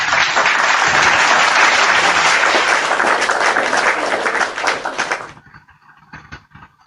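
A crowd breaks into loud, sustained applause that fills the space for about five seconds, then cuts off sharply, leaving a few faint scattered claps.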